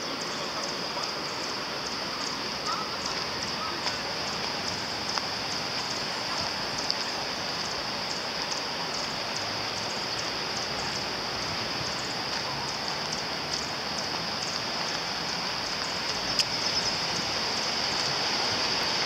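Ocean waves at Saint-Leu on Réunion Island, a steady, broad roar of surf and wash that holds constant without distinct breaks, fairly loud and unbroken.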